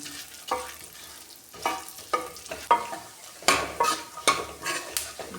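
Dry fruits are stirred and roasted in a hot pan, with a spoon scraping and clinking against the metal in irregular strokes over a soft sizzle, close and fairly quiet.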